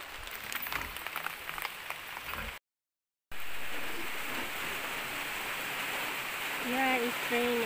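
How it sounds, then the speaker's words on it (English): Steady rain hisses on surfaces at a moderate distance, with a brief dropout partway through, and faint voices are heard in the background. "Yeah, it's raining."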